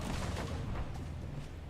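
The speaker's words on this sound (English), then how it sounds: "That is the sound of a Gjall." A deep, booming low rumble rolls on continuously from a Gjall creature in the video game Valheim's Mistlands, heavy and distant-sounding, with no speech.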